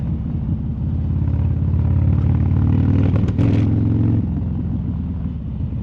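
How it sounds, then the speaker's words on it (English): Steady traffic rumble with engines droning close by, including motorcycles splitting lanes, trucks and buses, a vehicle passing and revving in the middle; no voices. "There's motorcycles splitting lanes."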